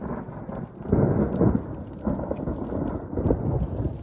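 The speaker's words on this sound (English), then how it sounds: "that was the loudest thunder I've ever heard in my life." Thunder rolls in a low, sustained rumble during a summer storm in southern Arizona, with rain pattering steadily throughout and no voices.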